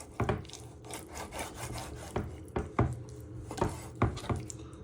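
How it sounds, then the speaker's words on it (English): A knife slices raw chicken into thin pieces against a cutting board, giving a run of close, firm strokes and knocks at an uneven rhythm, with no talking. "So you just keep slicing them till you have cut them all."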